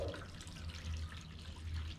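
Sea water is poured and spread in a thin layer across a drying tray, a quiet, continuous trickle and splash that stays faint and close throughout.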